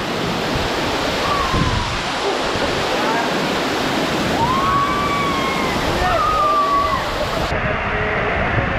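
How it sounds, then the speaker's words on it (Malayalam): Strong, deep Pithalkund waterfall at Pithalmala pours with a steady, loud, broadband roar that never lets up, with faint chirping tones drifting over the rushing water. "അപ്പോൾ ഇതാണ് നമ്മുടെ വെള്ളച്ചാട്ടം."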